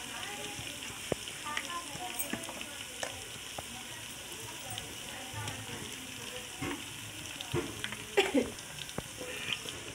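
Ginger, garlic and masala browning in a pan for chana pulao, a steady soft sizzle with occasional stirring clinks and scrapes, heard close and fairly quiet.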